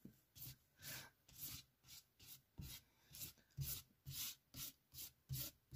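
A silicone kitchen spatula rubs wet medium across a scrapbook paper page prepared with distress oxide, in a regular series of about a dozen close back-and-forth scraping strokes, with no voices.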